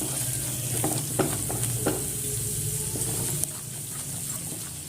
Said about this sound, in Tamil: இந்த காஷ்மீரி சில்லி பவுடரை நம்ம இதில் போட்டு நல்லா வதக்கலாம்.